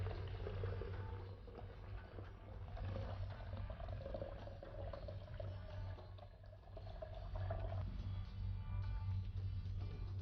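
Distilled water pours into a lab vessel in a steady, faint trickle and gurgle, continuous and close, with a low background hum underneath.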